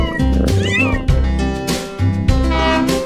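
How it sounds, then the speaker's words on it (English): A kitten meows several times, loud and close, in a children's counting song, each high mewing cry set against a steady musical backing. "kittens."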